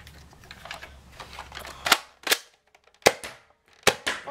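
A Nerf blaster firing a modified Streamline dart gives a sharp pop near the middle, followed by several crisp clicks and snaps of handling, close and isolated over a quiet background after some low rustling.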